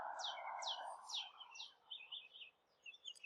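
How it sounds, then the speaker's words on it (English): Birds chirp outdoors, fairly faint: a run of quick, repeated downward tweets followed by shorter, scattered calls, heard alone with no talking. "You can hear the birds out here probably"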